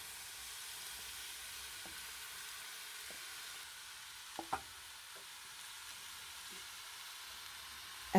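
Spices temper in hot oil with a faint, steady sizzle, and a few soft scrapes and clinks of stirring come through near the middle, with no talking.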